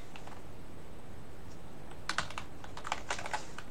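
Computer keyboard typing while coding in Rust: a quick, uneven run of crisp key clicks, close and fairly loud over a quiet room hiss, with no talking.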